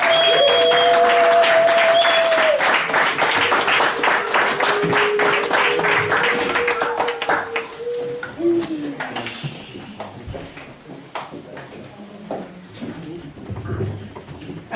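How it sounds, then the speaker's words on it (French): Applause from a church congregation during a Sunday service, dense clapping for the first several seconds that thins out and fades, with a sustained organ-like tone and some voices underneath. "Acclamons pour le Seigneur."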